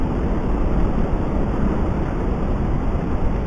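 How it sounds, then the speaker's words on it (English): Strong wind gusts roar in a steady, broad rush outside a bushcraft shelter built with mud and hay, loud and close with no pauses. "It's getting a bit windy out there as well. Don't know if you can hear that wind."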